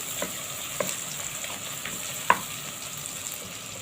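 Meat frying in a pan with ginger and garlic, giving a steady close sizzle with occasional soft stirring clicks.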